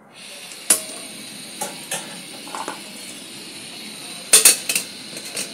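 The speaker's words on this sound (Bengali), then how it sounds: "আমি গ্যাসটা ধরিয়ে দিয়ে কড়াই বসাচ্ছি।" Clinks and metallic knocks ring out as a gas stove is lit and a metal wok is set on it: a sharp tap, several lighter clatters, then a louder cluster of clanks over a faint steady hiss.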